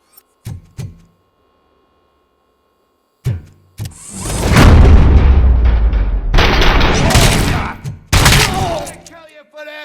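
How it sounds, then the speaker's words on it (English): In the video game Robocop Rogue City, a few isolated clicks and thumps give way to loud sustained bursts of gunfire and booming blasts, with a voice briefly heard at the end. "Am I hearing gunshots?"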